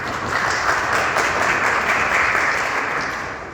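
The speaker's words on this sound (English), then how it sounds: "Big applause again." Audience at a panel discussion gives sustained applause, a dense steady clapping that holds at full strength for about three seconds before starting to fade.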